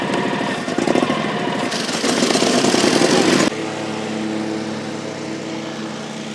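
A YAKTA YXR-710 zero-turn mower cutting grass, its engine droning loud and steady with the blades engaged, swelling briefly and then settling to a lower, even hum partway through.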